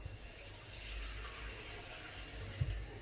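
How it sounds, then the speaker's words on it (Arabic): Water is poured into a chicken marinade with saffron. The quiet, steady pouring and splashing runs for a few seconds, with a small thump near the end and no speech. "غادي ندير الماء"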